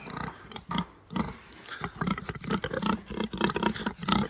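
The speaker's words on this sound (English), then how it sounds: "So, I'm going to turn you around and show you my pigs." Duroc pigs on a farm grunt and squeal close by in a busy, overlapping chorus of rough snorts and louder squeals.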